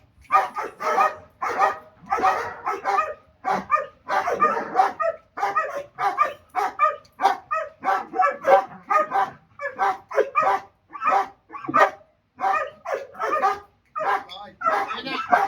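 A guard dog, being trained to bark at strangers, barks repeatedly in sharp, rapid bursts with a few yips, close by, over a voice talking.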